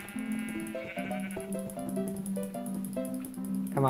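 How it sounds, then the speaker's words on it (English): Several sheep bleat in Minecraft while a flock is being sheared, their harmonic cries overlapping over a steady melodic game music bed, loud and close throughout. "Shear as many sheep as you can."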